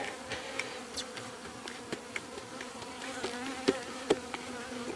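Bees buzz around buckets of honey, a soft continuous hum with several insects flying close by in short passes.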